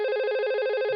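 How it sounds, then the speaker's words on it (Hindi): A telephone rings on the receiving end with a continuous, steady electronic warble, loud and close, with no voices over it. "ये हमारा फोन यहाँ पे बजने लगा दूसरे साइड में भी"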